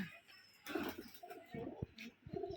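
Rajshahi Giribaz pigeons on a farm give a few soft, low coos in short bursts, with faint chirps and rustling around them and no talk.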